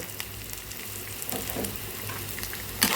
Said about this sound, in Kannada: ಸೊ ಇವಾಗ ಕರಿಬೇವನ್ನು ಹಾಕೋಣ